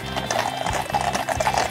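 Horses' hooves clip-clopping during the changing of the guards, a series of moderately faint, uneven knocks heard amid outdoor crowd ambience.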